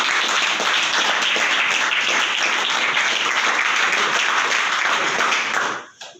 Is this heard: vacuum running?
no